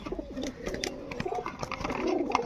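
Pigeons coo softly and repeatedly at close range, their low rolling calls overlapping amid faint background noise.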